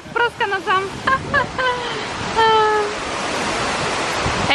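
Outdoor water fountain in Pleven splashing, a steady broadband rush close by, with people talking over it at first.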